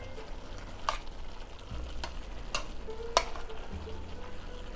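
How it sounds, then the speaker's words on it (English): Ground meat browning in a pan for home-style tacos, with onions added, giving a soft continuous sizzle broken by a few sharp scrapes or stirring clicks, close and fairly quiet with no voices. "I finished browning the ground meat"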